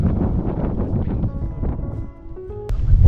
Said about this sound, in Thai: แล้วก็ลม